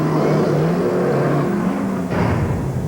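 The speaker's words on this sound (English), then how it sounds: "the world's most powerful 10-cylinder truck engine" A Dodge Ram's 10-cylinder truck engine revs with a loud, sustained growling roar that shifts in pitch partway through, heard alone with no talk.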